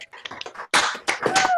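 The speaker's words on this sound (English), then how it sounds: "Open up your mics and just clap for the StepZen team." Online audience clapping through open microphones, a short scattered burst of claps and taps that swells louder midway, sounding thin and uneven as if from several separate mics.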